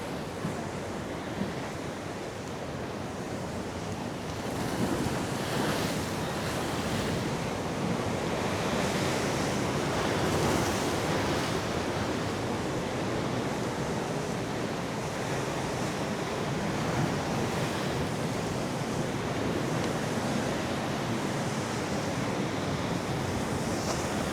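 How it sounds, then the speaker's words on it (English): Sea waves washing onto a small beach at high tide on Costa de la Calma, Mallorca, a continuous broad surf wash with swelling breakers and some wind buffeting the microphone, no talking. "the sea's right up high. Its waves are taking it in."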